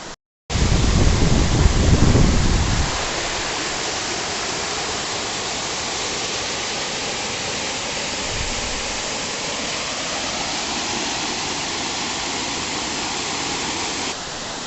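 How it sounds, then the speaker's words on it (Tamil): The Nallur waterfall near the Yercaud hill station roars loudly and steadily, a dense, constant rush of falling water that swells briefly at the start and then holds an even level throughout. "வந்தீங்கன்னா உங்களுக்கு இங்கே ஒரு பியூட்டிஃபுல்லான ஃபால்ஸ் இருக்குது"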